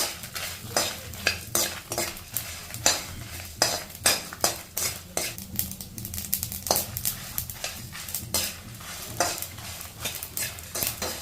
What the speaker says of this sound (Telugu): ఇప్పుడు ఆవాలు వేసుకోవాలి ఇలా వేగేటప్పుడు ఎండు మిరపకాయలు వేసుకోవాలి